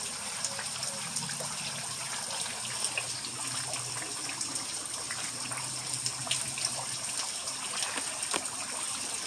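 Continuous gushing and trickling of floodwater running around a house during rain, a steady close wash of water with faint scattered drips and no clear speech.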